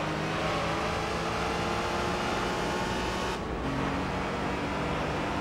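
Subaru Legacy engine in the Gran Turismo 3 racing game, a constant loud high-revving drone held for several seconds with only a brief dip, no voices.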